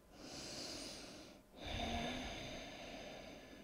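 Slow, deep breathing during a yoga stretch: one long exhale, a short pause, then another full breath, close and soft with no talking.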